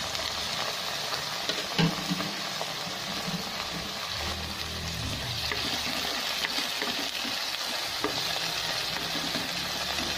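Onion and garlic sizzling and frying in a pan for tuna pasta, a steady close, dense crackling hiss with occasional stirring scrapes, no talk.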